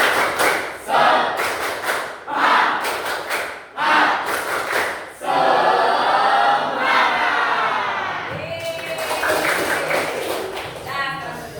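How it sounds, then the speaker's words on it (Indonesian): A school class performs the tepuk semangat, bursts of rhythmic group clapping in short synchronized blocks broken by pauses, mixed with shouted chanting voices from the children and a lively, loud crowd feel. "Tepuk semangat."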